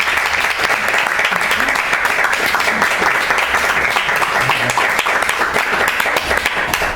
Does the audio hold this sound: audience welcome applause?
yes